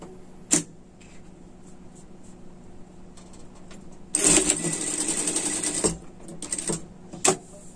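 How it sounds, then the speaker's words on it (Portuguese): A sewing machine runs a seam in white thread on a knit sweater, starting with a short click, then a loud continuous stitching burst of about two seconds, followed by a few brief taps and a final sharp click. "Passamos a costura, tô fazendo de branco aqui para vocês verem bem também."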